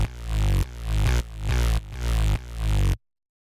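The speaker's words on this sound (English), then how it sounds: "So then the next thing I'll show you here are these sort of main basses" Layered synth bass in a dark electronic style sounds five thick, sustained notes that swell in volume and then cut off sharply, ending in silence.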